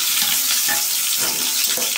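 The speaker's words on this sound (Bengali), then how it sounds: "এবার আমি আলুগুলোকে ভেজে নিচ্ছি।" Potatoes frying in a pan of oil for a homemade khichuri, a steady broadband hiss with faint crackles throughout, close and even, with no voices.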